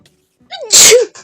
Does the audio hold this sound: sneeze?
yes